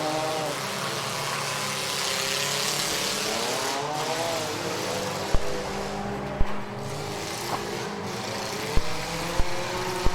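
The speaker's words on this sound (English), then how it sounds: "2 laps to go here in this third mini car figure eight" Mini cars racing a nighttime figure-eight event, with a steady engine drone and revving from the pack, punctuated by several sharp knocks or impacts toward the end.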